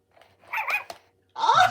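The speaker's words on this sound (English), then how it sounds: "Say speak and he will bark." A Tiger Electronics FurReal Friends Scamps robotic toy dog lets out a few short electronic barks, close up, with quiet pauses between them.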